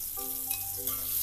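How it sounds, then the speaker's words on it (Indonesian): Balado spice paste frying in a pan, a steady close sizzle with crackling throughout, no talking. "Habis ini baru kita goreng bumbunya,"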